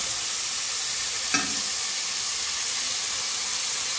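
Bacon frying in a pan for an egg farofa gives a steady, even sizzle and hiss with one brief sharper pop, close and continuous with no talk.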